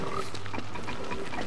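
Pigs grunt and snort in the video game Don't Starve, with several short, close oinks in quick succession against steady background game ambience.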